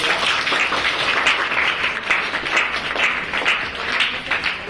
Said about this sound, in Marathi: एकदा टाळ्या होता तिच्यासाठी.